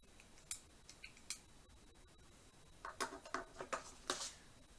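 Scissors snip paper several times, quiet and close, with a run of quick crisp cuts toward the end and no talking.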